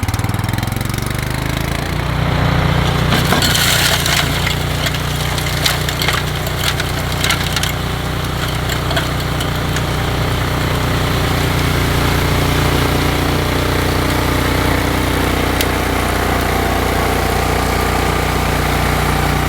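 A Cub Cadet 2X fuel-injected snow blower engine running at max power, a loud, steady roar that ramps up in the first seconds and then holds constant and near throughout, with occasional rattling and no talk.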